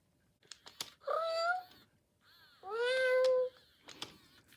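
Marmalade, a Joy for All animatronic robotic plush cat, gives two drawn-out electronic meows separated by a pause, with small mechanical clicks and whirs from its moving parts around them.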